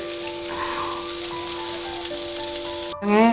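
Yam pieces fry in oil over a low flame with a continuous close sizzle under steady humming tones. A short break comes near the end, followed by a brief rising tonal sound.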